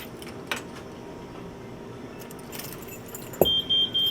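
A Bitcoin ATM door swings shut with a sharp knock after its paper roll is swapped, followed by a short series of high electronic beeps, all against a quiet room.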